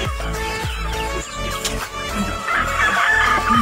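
Darag native chickens on a farm: several clucks and short crows sound close by over a few seconds, with rhythmic low clucking and a raspier call toward the end.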